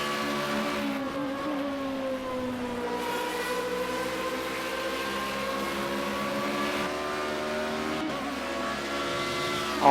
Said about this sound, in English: I always love how this car screams on each and every track.